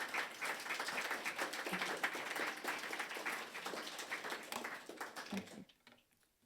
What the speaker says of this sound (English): So could I ask you, please, just to give a round of...